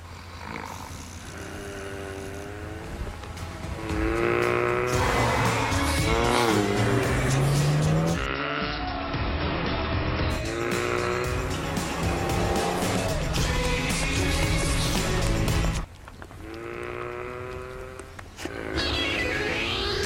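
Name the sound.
turbocharged Volkswagen Golf GTI car driving in an advert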